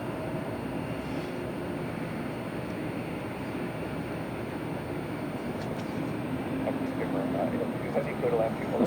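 A United Airlines jet landing at Los Angeles International Airport, a steady broad roar of engine and wind noise sustained throughout, distant and unbroken, with faint tonal whine rising slightly toward the end.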